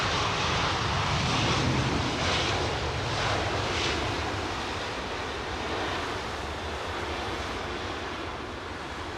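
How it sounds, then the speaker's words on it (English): Qatar Airways Airbus A350 on approach at London Heathrow: a loud, steady jet engine roar fills the air, broad and rushing, slowly easing off as the airliner passes, with a breezy wind-like hiss underneath. "We've got a Qatar 350 on approach"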